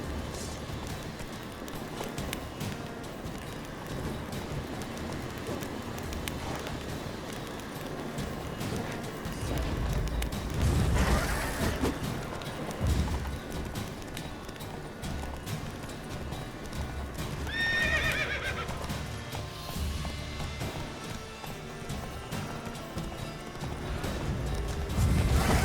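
The horse Roach in The Witcher video game gallops with steady clip-clop hoofbeats over background game sound, whinnying partway through.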